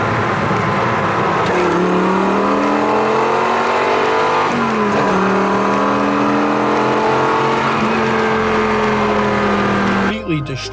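A cammed V8 car engine idling with a loud, lumpy, choppy rumble, its pitch rising and falling through several revs over about ten seconds, close and continuous.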